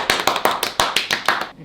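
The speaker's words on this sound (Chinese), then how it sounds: "空中掌声。" A single person claps about nine times in a quick, fairly regular rhythm, sharp and close, each clap crisp and distinct with no talking.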